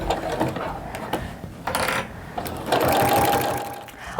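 A sewing machine stitches around the edges of a double oven mitt in bursts of rapid mechanical whirring, with short pauses and clicks between runs and a longer, louder run near the end.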